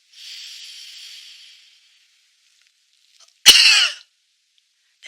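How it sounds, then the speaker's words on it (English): A single forceful cough blasts out air in one sharp, loud burst, close up, after a softer breathy exhale and a stretch of silence, done as a lung-cleansing breathing exercise. "you're going to cough as hard as you can to expel your air."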